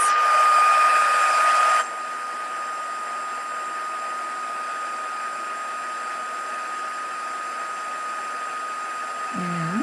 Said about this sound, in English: it takes a minute for the heat tool to warm up, and then away we go